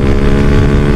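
Honda Jupiter Z1 motorcycle with a Tsukigi aftermarket exhaust, engine not fully warmed up, accelerating with a loud, close, dense buzzing drone that holds steady throughout with no talk.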